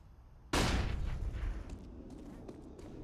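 Mac 10 submachine gun fire in a Counter-Strike match: a sudden loud burst erupts from near-silence, then trails off into a rattling, decaying tail with faint scattered pops.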